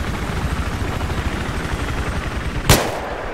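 In the Battlefield 3 video game, a helicopter's rotor and engine drone fills the scene while the gunner's machine gun fires in a rapid rattle beneath it, with one sharp louder blast near the end.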